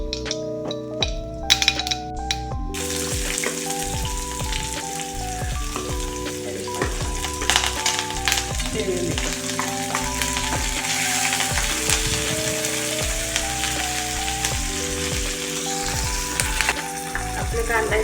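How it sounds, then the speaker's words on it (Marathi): Cumin and mustard seeds sizzle steadily in hot oil in a pan for chapati upma, a continuous crackling hiss running for the whole stretch beneath louder background music. "आपल्या इथं तेल गरम झालेलं आहे. आता आपण जिरं मोहरी घालूया."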